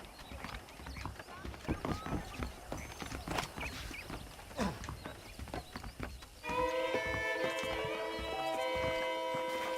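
Rhythmic hoof clip-clop of saddled horses in the video game Red Dead Redemption with a brief whinny, mixed with game sounds and talk, then a steady droning tone takes over near the end.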